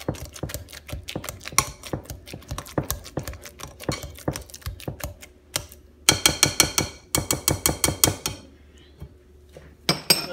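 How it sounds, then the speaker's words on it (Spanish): Small hand masher pressing and squashing bananas in a bowl for banana apple bread, giving rapid repeated knocking and clattering strokes, close and fairly loud, with a brief pause and no talking. "Este aparatito es para machacar los plátanos."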